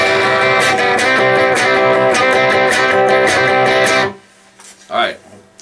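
An electric guitar, with a distorted tone, plays a riff in full strummed rhythm for about four seconds, then stops abruptly, leaving near silence and a brief voice.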